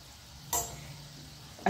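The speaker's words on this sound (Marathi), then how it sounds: "छान मंद आचेवर आपल्याला मोदक तळून घ्यायचे 1-2 मिनिटांनी" Khawa modak fry gently in oil over a low flame, a soft steady sizzle with two brief louder scraping stirs of a utensil, close and quiet.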